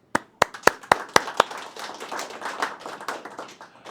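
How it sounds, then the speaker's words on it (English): A pitch session audience begins clapping with a few sharp separate claps, then the claps thicken into a fuller round of applause that stays moderate and steady to the end. "A round of applause to them as well"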